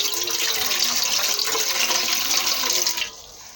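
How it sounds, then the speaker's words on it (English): Warm water pours steadily into a bowl for pizza dough, a continuous close splashing stream that stops abruptly near the end. "I go in with warm water."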